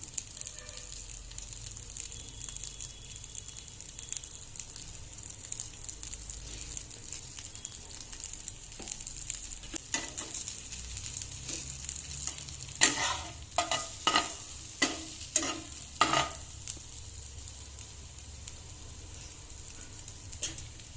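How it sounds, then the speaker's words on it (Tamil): Fish fries in ghee with masala in a pan, giving a continuous bright sizzle. Several sharper bursts of stirring and spitting oil come in the second half. Close by, with no talk. "நாம இப்ப ஆட் பண்ணி வச்சிருந்த நெய்யோட மீன் நல்லாவே ஃப்ரை ஆயிடுச்சு"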